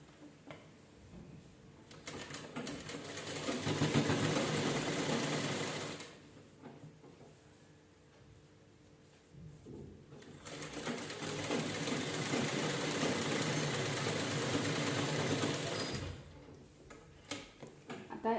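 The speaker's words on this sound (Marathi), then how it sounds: "पूर्ण व्यवस्थित गळ्याला स्टिच करून घ्यायचं." Sewing machine stitching around the neckline of a blouse, rapid close-up mechanical running in two long bursts separated by a quiet pause, no speech.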